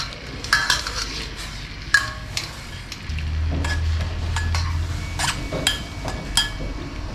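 A spatula scrapes and clinks against a pan as stir-fried bamboo shoots with dried chili and pork belly are scooped out, with a low sizzle and a brief hum underneath.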